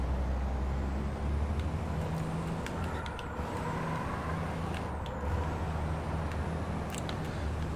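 Air brake hiss of a racing truck in a FIA European Truck Racing Championship video game, with bursts of released air over a steady, loud engine drone.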